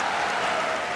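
A crowd at a Hindi comedy poetry gathering claps in a continuous, even wash of applause that stays at a constant level from start to finish, with no speech over it.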